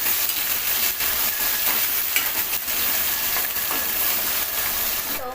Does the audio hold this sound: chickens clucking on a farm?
no